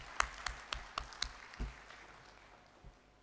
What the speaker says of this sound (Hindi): ज़ोरदार तालियां फॉर जाहिद साहब एंड देयर टीम